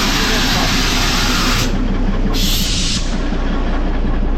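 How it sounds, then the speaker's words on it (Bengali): A one-coach Darjeeling Himalayan Railway toy train gives a loud, steady rumble with broad hissing noise throughout, and a voice talks over it near the microphone. "এই হচ্ছে আমাদের ট্রেন, এক কোচের ট্রেন"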